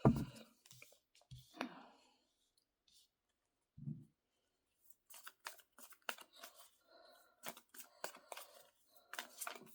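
Tarot cards being shuffled and handled, heard as quiet scattered clicks and papery flicks that come in close bursts after a near-silent stretch.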